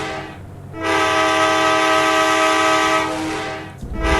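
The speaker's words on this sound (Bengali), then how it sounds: "তো ট্রেনে বসে পড়েছি, এখন ট্রেনটাকে আমাকে ড্রাইভ করতে হবে।" A train in the Indian Bike Driving 3D video game sounds a long, loud horn blast, a sustained chord-like tone lasting a few seconds over low rumbling game audio.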